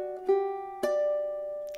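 A ukulele is fingerpicked through a verse pattern, two plucked attacks sounding close and clear, each followed by notes ringing out and slowly fading.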